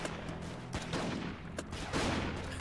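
Dense, continuous gunfire from a Roblox SCP Tower Defense match, a steady rattling barrage with a few louder bursts running the whole time, no talking over it.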